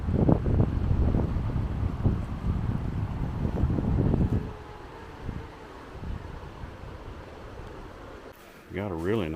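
Wind buffeting the microphone on a hiking trail on a mild day, a loud rumbling gust for the first few seconds that then settles to a lighter breeze, with a brief voice near the end.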